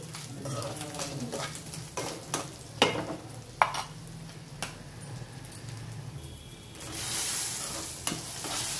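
Betel leaves and sesame seeds frying in a pan and stirred for a betel leaf chutney, a steady close sizzle with scraping spoon strokes and a few sharp knocks, the frying hiss swelling toward the end.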